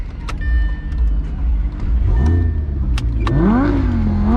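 A supercharged Lamborghini Gallardo Spyder starts up close by, with a brief clicking and whirr followed by the engine catching and rising in a loud swelling rev before settling, with no voices.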